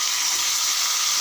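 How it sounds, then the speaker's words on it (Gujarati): Chopped tomatoes hit hot oil with browned onions in a pan, setting off a steady, loud broadband sizzle that continues evenly throughout with no voices. "હવે આમાં ટામેટાં એડ કરીશું।"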